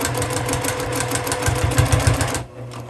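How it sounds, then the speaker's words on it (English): A sewing machine stitches across the second binding of a tote bag about a quarter inch from the raw edge, its needle chattering in a fast, steady mechanical rhythm up close before stopping abruptly near the end. "I'm just going to finish up that sewing there"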